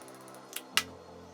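Makeup setting spray gives two quick, soft hissing pumps, the second louder, over faint background music.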